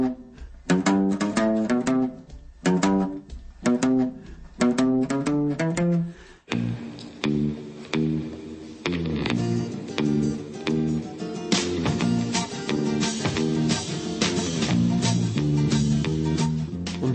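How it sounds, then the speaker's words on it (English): A muted bass is doubled with a low-strung guitar, playing short, clipped, rhythmic notes. A fuller ensemble joins partway through, with the bouncy staccato line running steadily under it. "I always muted the basses briefly, and then it used to sound like this."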